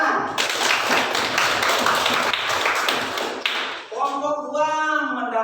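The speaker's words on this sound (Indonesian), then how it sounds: "Tepuk tangan." Classroom clapping for a student group's score, a dense burst of many hands lasting about four seconds, then fading as a voice starts speaking.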